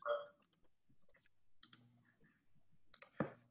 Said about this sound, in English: Show them your keyboard, Jack.